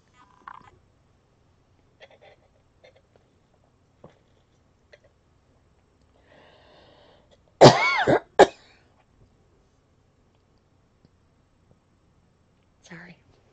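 Two sharp coughs in close succession from a lone reader in a quiet room, loud and near, with faint breaths and small mouth noises around them.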